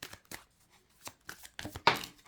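Sun Radiant Oracle cards being shuffled by hand, a few short papery riffling bursts separated by brief pauses, the last burst loudest and closest.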